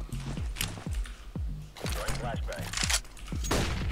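Rapid gunfire bursts from a competitive online shooter match crack repeatedly across the scene, with sharp impacts and echoing shots mixed under a player's excited talk.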